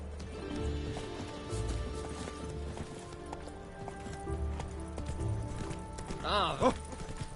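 Roach, a horse in The Witcher 3: Wild Hunt, clip-clops along at a steady gait in the foreground under ambient game sound and music, with a brief whinny-like swell near the end.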